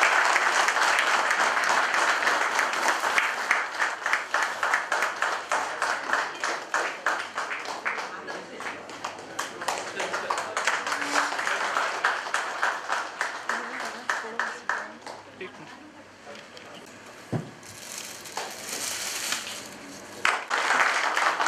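Audience applause at an awards ceremony, a crowd clapping steadily for about fifteen seconds, then thinning into scattered claps and fading, with a brief thump and some background voices.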